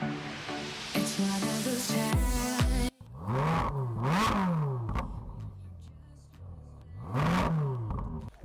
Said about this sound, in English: This car did sound incredible, the Ferrari 458 Speciale